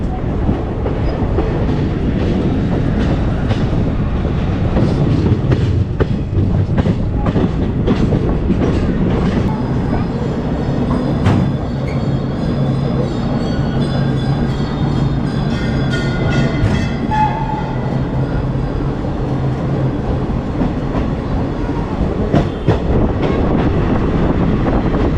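A Kolkata to New Jalpaiguri Intercity Express rolling along the rails in eastern India, heard from inside the train: a steady loud rumble with rhythmic clickety-clack of wheels over rail joints and wind noise throughout.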